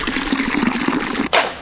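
Water pours and splashes in a steady, gurgling stream for more than a second, ending in a sudden louder splash.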